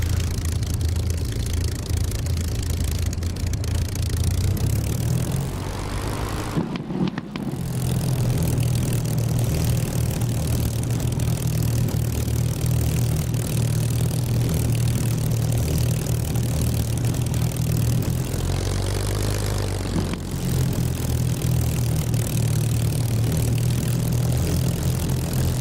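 Aircraft engines idle steadily while taxiing in the DCS flight simulator game, a continuous loud drone with a low hum that dips briefly twice, with no talk over it.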